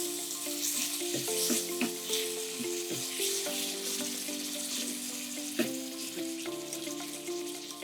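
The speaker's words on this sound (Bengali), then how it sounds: "মশলা কষা হতে থাক" Spice masala with boiled tomato puree frying in a pan, a steady close sizzle with scattered stirring knocks and scrapes, alongside soft tonal background music.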